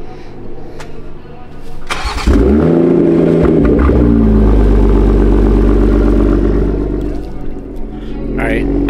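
A car engine cranks and catches, then settles into a steady, loud idle with low rumble close by, while people talk over it.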